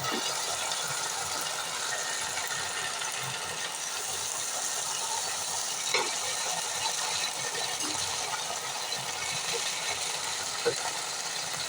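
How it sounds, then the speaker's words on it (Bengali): Onions and spices sizzle in hot oil while a prawn dish with bitter gourd and potato is cooked, a steady close-up frying hiss that continues without a break and carries a few faint clinks. "আমার পেঁয়াজটা একটু ভাজা ভাজা হয়ে গেছে, আমি এবার মশলাটা দিয়ে দিব।"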